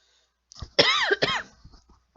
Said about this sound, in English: Goodness gracious, I'm coughing